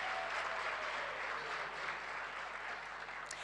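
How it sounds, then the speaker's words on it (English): An awards ceremony audience gives a warm round of applause for women in science, a thick, sustained clapping that holds steady and loud throughout. "a warm round of applause for the wonderful work that they do"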